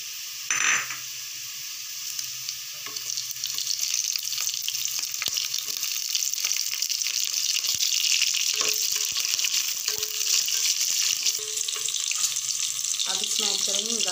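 Onions with green chili fry in a pan, giving a loud, continuous close sizzle broken by a few clinks and stirring sounds.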